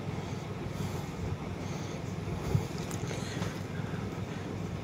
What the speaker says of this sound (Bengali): ফেরি আমাদের কাছাকাছি এসে পড়েছে,